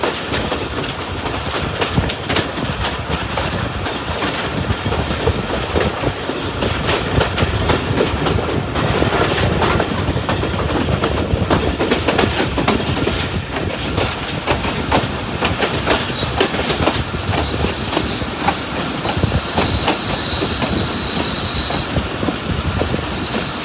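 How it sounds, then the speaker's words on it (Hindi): Mianwali Express train rolling into Malakwal Junction at night: a loud, continuous rumble of railcars with steady wheel clatter and occasional high wheel squeal, close by, with no voices. "मियाँ वाली एक्सप्रेस मलकवाल जंक्शन पहुंच रही है"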